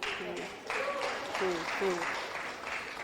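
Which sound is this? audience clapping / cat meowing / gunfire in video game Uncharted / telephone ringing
audience clapping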